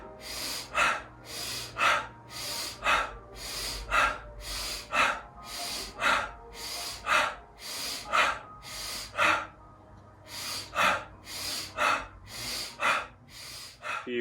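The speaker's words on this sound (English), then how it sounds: "Deeper inhales, quicker exhales. In through the nose, out through the mouth, round after round." Rapid yoga breathing with deep inhales through the nose and quick exhales through the mouth, about a dozen loud, close breath cycles in a steady rhythm, with no talking.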